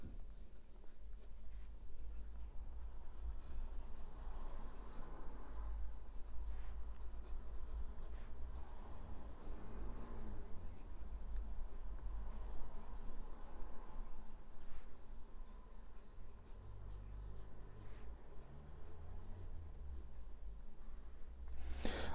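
A Platinum Procyon Citron Yellow fountain pen with a Japanese medium nib scratches softly across paper, faint close strokes and small ticks repeating steadily with brief pauses throughout.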